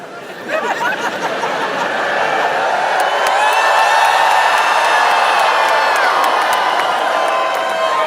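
A large crowd at the Winter Olympics lets out sustained whoops and cheers, a dense swell of voices that rises after the first half second and holds loud and steady throughout.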